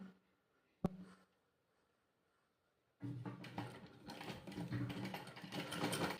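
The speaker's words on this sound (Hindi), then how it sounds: "तो अब हम इसको इस तरह से फोल्ड करके सिलाई लगाएंगे।" A sewing machine stitches down a folded strip of fabric, being made into a thin cord. The steady mechanical whirr starts after a quiet stretch broken by one sharp click, then runs loud and continuous to the end.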